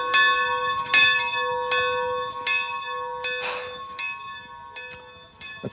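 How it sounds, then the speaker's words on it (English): A camp bedtime bell rings out in slow, evenly spaced strokes, each with a long, clear humming decay that overlaps the next, loud and unaccompanied by voices. "That's the bedtime bell."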